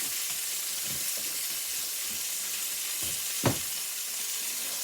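Steak sizzles in a hot skillet with a steady, even hiss. A few faint pops and one brief, sharper crackle break through it. Nobody speaks.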